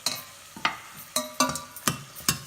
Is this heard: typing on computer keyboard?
no